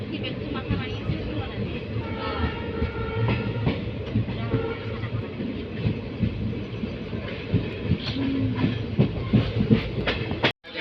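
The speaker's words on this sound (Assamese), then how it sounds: "এতিয়া এৰিলে ট্ৰেইনখন যাই আছে এতিয়া" Train running on the rails on the Udalguri to Rangiya route, heard from on board as a steady rumble and rattle with a rhythmic clatter throughout, fairly loud and continuous, cutting off abruptly at the end.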